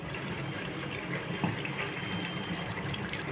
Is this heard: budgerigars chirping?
no